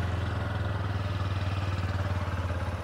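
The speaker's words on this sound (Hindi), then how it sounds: "अब स्टार्ट कर लेते हैं अंडर वाली एग्जॉस्ट वाली बाइक को।" A 125cc motorcycle with an underbelly exhaust idles close by with a steady, even throbbing beat and a slight mechanical clatter, no voices over it.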